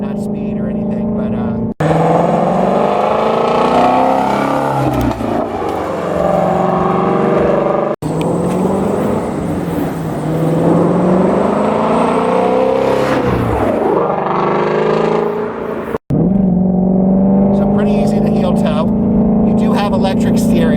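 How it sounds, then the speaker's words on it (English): Stock exhaust of a Shelby GT350R Mustang on the road, a steady engine drone rising and falling through the gears with brief dips at shifts, heard from inside the cabin with talk over it. "this is probably the best sounding stock exhaust of any car I've driven"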